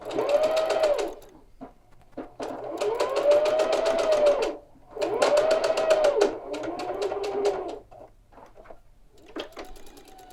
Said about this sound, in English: when you sew the second row of stitching to make the French seam